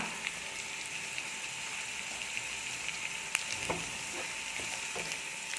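Curry leaves and green chilies sizzle steadily in hot oil for a kingfish (neymeen) fish molee, a constant broadband frying hiss with occasional small pops and crackles, close and alone without talk.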